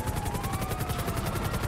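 A helicopter flying low overhead in GTA V, its rotor chop a loud continuous pulsing throb, with a siren tone sliding faintly underneath.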